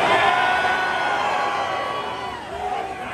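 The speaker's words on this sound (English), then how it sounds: "Well, you cheer" Concert audience of a metal show at The Observatory cheering and yelling in a sustained, loud crowd roar that eases slightly toward the end.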